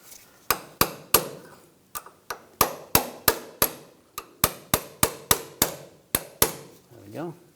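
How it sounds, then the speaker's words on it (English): Sharp metallic hammer taps on a punch ring out in irregular bursts, about sixteen strikes, close and clear, with a brief murmur at the end, while fitting a parking brake cable on a 1999-2006 Chevrolet Silverado 1500. "Punch and a hammer."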